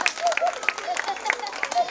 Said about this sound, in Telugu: సార్ గట్టిగా చప్పట్లు కొట్టండి